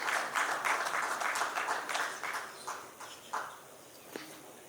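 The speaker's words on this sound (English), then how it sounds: "A big round of applause for Mr. Subhash Chandra Gehlot." An audience at a panel discussion on financial prudence claps as a speaker is introduced, a dense patter of hands that thins out and fades to scattered claps by the end.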